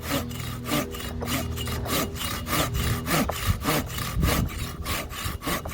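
A curved-blade hand saw cuts through wood in steady, rhythmic push-pull strokes, about two per second, close and clear with no talking.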